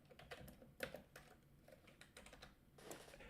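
Quiet, irregular keystroke clicks from typing on a split ergonomic computer keyboard, with one sharper tap standing out among the soft patter.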